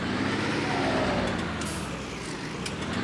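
A truck engine revs in Farming Simulator 19, a steady broadband drone that swells and eases slightly, with a brief air-brake-like hiss partway through and no talking.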